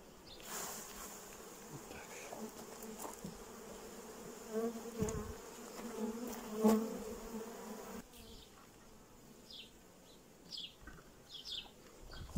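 A steady, close buzzing of honey bees hums throughout as two colonies are combined in spring, with occasional thumps and light rustling, and faint chirps toward the end.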